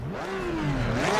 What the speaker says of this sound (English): Right, better give her a rev up,